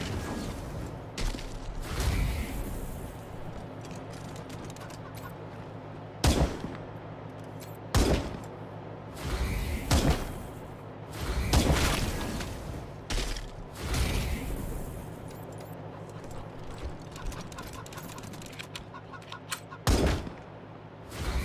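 Gunfire in the Wasteland 3 video game, with scattered loud shots and short bursts spread across a low, rumbling game soundscape, the shots coming irregularly, some seconds apart.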